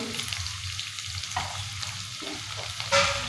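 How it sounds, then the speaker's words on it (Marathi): Finely chopped onion frying in hot oil with cumin and mustard seeds for a fresh pea curry, a loud continuous sizzle with soft stirring and a brief metallic clink near the end. "इथं जे आपण कांदा बारीक चिरून घेतलेला आहे ना तो टाकून घेऊया"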